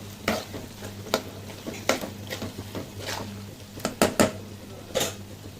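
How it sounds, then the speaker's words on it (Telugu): Chicken pieces frying in oil in a pan for a spicy home-style chicken fry, a low steady sizzle broken by sharp clinks and scrapes of a spoon stirring, close up with no talking. "చికెన్ ఫ్రై చూడండి ఎంత మంచిగా వేగుతుందో."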